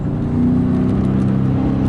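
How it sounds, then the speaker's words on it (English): A high-revving V8 car engine gives a deep, steady rumble close by, holding a sustained throaty drone for a couple of seconds. "it's a high pitched V8. It's like a high revving V8."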